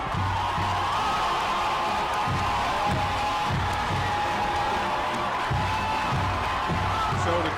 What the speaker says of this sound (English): So the crowd is getting into it